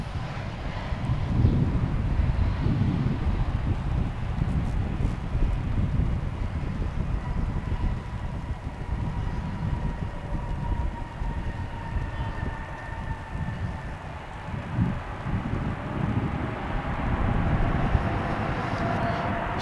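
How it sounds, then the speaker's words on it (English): A Spirit Airlines Airbus A320neo jet lands at Dallas/Fort Worth Airport at night, a sustained loud low roar with a faint whining tone overhead and rumbling that swells and eases across the runway. "So we welcome that Spirit Airlines jet. That was Airbus A320neo coming in from Fort Lauderdale, flight 2955."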